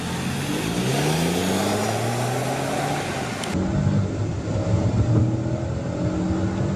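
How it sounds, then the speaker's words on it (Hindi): A Kia Syros compact SUV is launched from a standstill at full revs, its engine roaring loud and close as the pitch climbs steadily through each gear. "बाय ने फुल रेव में सिरोस को लॉन्च किया था"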